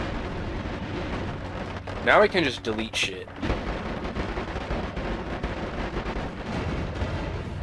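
Rapid chain of booming explosions in the video game Noita, dense rumbling blasts bursting and fading over a few seconds, followed by lingering crackling debris, with someone speaking briefly over the mayhem.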